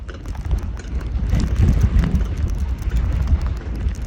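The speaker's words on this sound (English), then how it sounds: "Oh, it's windy. It is windy." Wind buffets the microphone in low, rumbling gusts that swell and fade on an alpine coaster ride in Scotland, with no voices heard over the roar.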